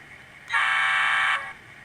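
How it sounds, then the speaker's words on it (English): Digitrax DCC sound decoder horn in a Bachmann GP35 model locomotive, a single steady electronic horn blast lasting under a second, bright and close, starting and stopping abruptly over a quiet room. "We've got our horn."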